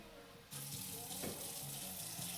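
Tap water runs steadily into a measuring cup during bread baking at home, a continuous close splashing rush that starts abruptly and continues alone without speech.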